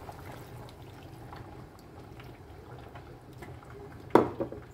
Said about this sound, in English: I'll be adding water.